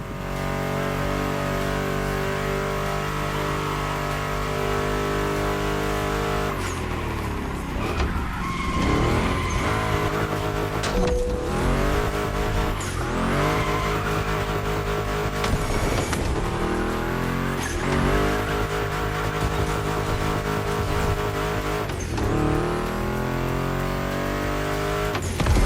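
Ford Mustang GT muscle car racing in The Crew Motorfest, a loud continuous engine roar climbing and dropping through repeated gear shifts, with tire squeal and skids through a series of turns.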